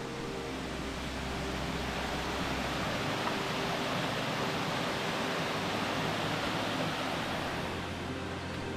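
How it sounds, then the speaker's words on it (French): A small stream in a beech-forest valley of the Massif Central, winding over stones and moss before cascading down cliffs; a steady, dense rushing of water throughout, with no voices. "Avec le petit ruisseau qui serpente dans les cailloux là, dans les mousses. Et puis là, ça plonge dans les falaises en cascade."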